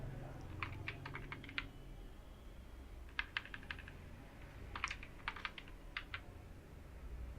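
Typing on a computer keyboard while entering text into a PowerPoint slide: three quick bursts of several crisp key clicks separated by short pauses, close and clear over faint room noise.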